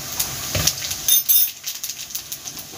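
A big spoonful of cumin seeds drops into hot mustard oil in a pan and sizzles with bright crackling and spitting, together with a few clinks of the spoon, fairly close and with no voice over it.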